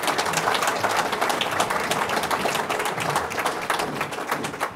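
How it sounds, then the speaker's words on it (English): Audience applause at a Bassmaster Governor's Challenge fishing event, a dense, steady wash of many hands clapping that fills the whole stretch at an even level with no talk over it. "Let's give Bruce Aiken a big round of applause"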